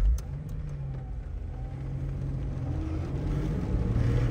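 Chevrolet Omega GLS 4.1 car driving, a low steady engine drone with road rumble that slowly builds as it pulls along, continuous and close, with no talking.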